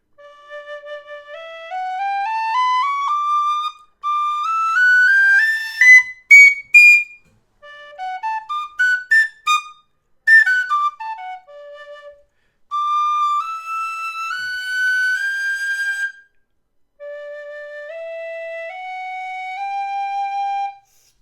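A Susato Oriole tunable high D tin whistle plays a lively melody alone, with clear rising runs, quick ornamented passages and sustained notes separated by short pauses, loud and close.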